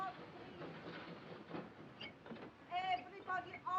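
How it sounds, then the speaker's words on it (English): Steam-era passenger train pulling away in a 1940 wartime spy thriller set on a night train to Munich, a steady rumbling clatter of wheels and carriages with brief squeals, heard under voices and station bustle. "The train is leaving."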